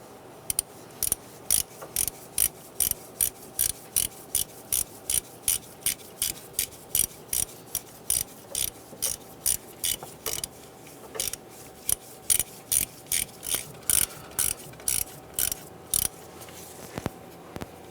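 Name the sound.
10mm ratchet tightening VVT solenoid bolt, Honda Element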